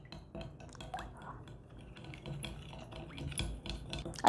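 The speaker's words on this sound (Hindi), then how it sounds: "अच्छे तरीके से चीनी और अंडे को फेंट लेना है।" A whisk beats milk, egg and sugar together in a bowl, giving soft, irregular clinks and scrapes against the bowl, fairly quiet and close.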